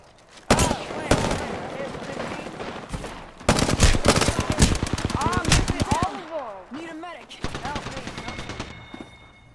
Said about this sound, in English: Oh, somebody's shooting this.